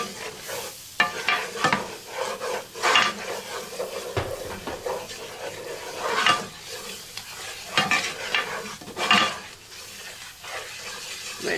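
Flour being stirred into fat in a hot pan for a cheese sauce, sizzling and scraping in irregular bursts, close and moderately quiet, with no talking.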